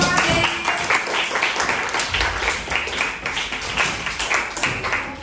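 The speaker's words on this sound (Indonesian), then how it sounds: "Oke, kasih tepuk tangan dulu." Students in a Year 7 social studies class at an Indonesian Islamic junior high school break into loud, steady applause right after a lesson on natural disasters, the claps dense and close, with a few sharper individual taps standing out.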